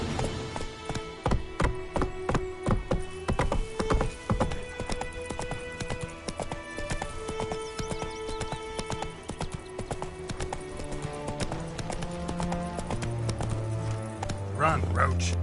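Hooves clip-clop steadily as a horse moves at pace in The Witcher 3 video game. A neigh rises near the end, and voices and game sounds run over the hoofbeats.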